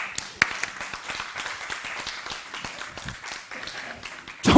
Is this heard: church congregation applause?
yes